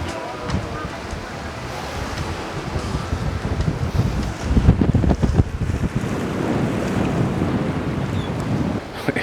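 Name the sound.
strong wind at the beach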